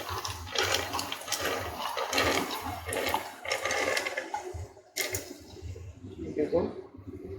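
Soaked kidney beans (rajma) tipped into a hot pan of masala with Kitchen King spice, giving a loud, steady watery splash and hiss that runs throughout while someone talks over it.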